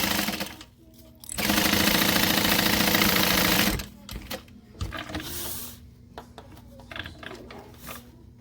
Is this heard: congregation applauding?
no